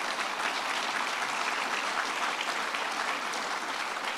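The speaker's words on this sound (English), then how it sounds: "Let's give them a round of applause." Audience applause for a marketing team at an event: a continuous, fairly distant wash of clapping from a crowd, steady for several seconds without any talk.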